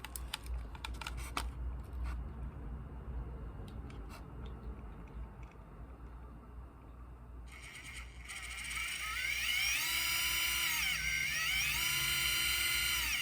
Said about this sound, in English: Now that's a brushed motor, so obviously it's not going to have like the brushless slow crawl